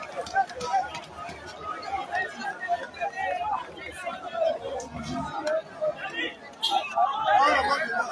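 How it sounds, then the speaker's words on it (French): A street crowd in Gabon cheering the army, a dense babble of many voices with scattered shouts and chanting, rising toward the end, with nearby speech mixed in. "Voilà, ils sont en train de scander. Ils acclament l'armée."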